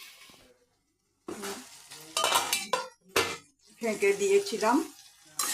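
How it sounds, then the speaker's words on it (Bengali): Long beans frying with turmeric in a covered pan, stirred in short bursts of sizzling and scraping that come between stretches of talking, after a brief silent gap. "ঢেকে ঢেকে এইভাবে আমি ভেজে নেব বরবটি"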